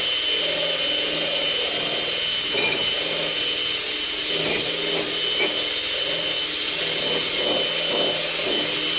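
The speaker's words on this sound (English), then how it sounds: "what I've already used the flapping wheel on" A flap wheel on a power tool grinds an axe head during a restoration, with a loud continuous motor whine and a gritty abrasive rasp that surges in short bursts as the wheel bites the steel.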